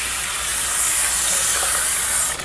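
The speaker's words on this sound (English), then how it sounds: "I'm going to rinse it off very carefully" Tap water runs steadily into a sink over potato pieces being rinsed in a glass bowl, a constant bright hiss and splash that tapers off near the end.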